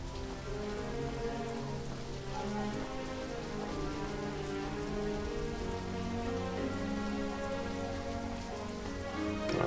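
Steady rain falls in a futuristic first-person shooter set in a nighttime city, a dense, even hiss of drops on surfaces layered with soft music, with no talk.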